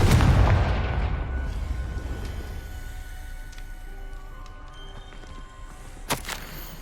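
A Confringo blasting spell exploding in Hogwarts Legacy, a loud booming burst at the start that decays into a rumbling tail, with a sharp crack later on.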